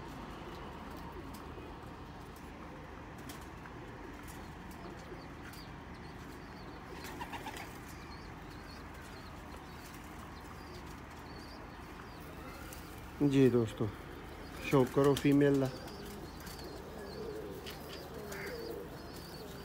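Ferozpuri pigeons coo in a few short, low bursts near the end, over faint background noise, while someone talks.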